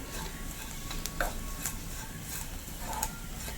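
A roasting jackfruit seed curry mixture being stirred in a pan: a soft steady sizzle with light, irregular clinks and scrapes of the spoon against the pan, close by and with no speech.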